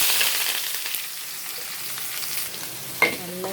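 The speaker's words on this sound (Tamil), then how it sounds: "எண்ணெய் ஊற்றியாச்சு. கடுகு போட்டுக்கலாம், வெந்தயம் போட்டுக்கலாம், வெங்காயம் போட்டுக்கலாம்." Onion, mustard seeds and fenugreek sizzle in hot oil for a spicy tamarind curry, a steady close frying hiss with occasional stirring scrapes and a clatter near the end.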